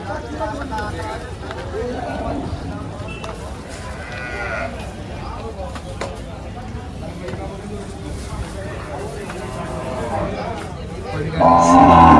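A large Gir cow at a busy cattle market in Dhule, with livestock calls rising amid constant loud crowd chatter and people talking nearby, a louder burst near the end.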